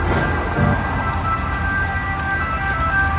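A distant ambulance siren in Florence, Italy wails in a steady, looping pattern over constant traffic rumble, with no one speaking.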